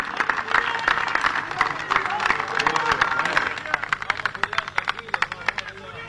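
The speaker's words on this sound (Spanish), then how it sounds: "Un fuerte aplauso para él" Clapping rises from a large crowd at an outdoor Un Solo Uruguay rally as a speaker is introduced for the proclamation. The applause is steady and dense, with sharper individual claps standing out near the end.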